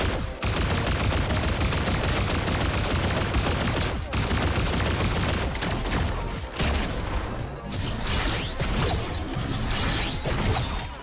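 Sustained pulse rifle fire in Fortnite, a dense, loud, continuous stream of rapid shots with only brief gaps, heard up close with no talking over it.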